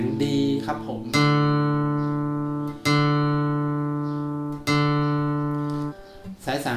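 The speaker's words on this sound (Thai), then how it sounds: "สาย4เสียง D ครับผม" The fourth string of an acoustic guitar, tuned to D, is plucked three times, each note ringing and slowly fading, close and clear, with brief faint sounds between the plucks.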